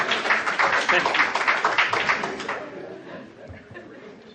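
Applause from the audience at a Middlesex County candidates forum, a dense burst of clapping for about two and a half seconds that thins and fades out, with a brief word spoken near the start.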